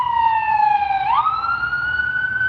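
An emergency vehicle siren on a Las Vegas street, loud and fairly near, its tone sliding from a falling wail into a rising one over a low hum of traffic.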